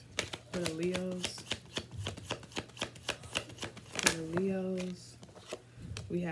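Tarot cards are shuffled close up in quick, crisp riffling bursts and snaps, running under a voice that keeps talking.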